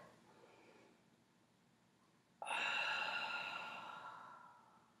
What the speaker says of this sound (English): Inhale to lift.